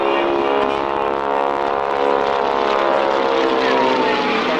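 A propeller aircraft flies at an airshow with an engine drone that stays steady and loud, holding a strong humming tone for several seconds without a break.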